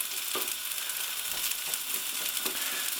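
Bubble and squeak frying in a non-stick pan, a steady close sizzle with brief scraping stirs at intervals, no voices.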